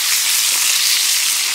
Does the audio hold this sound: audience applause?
no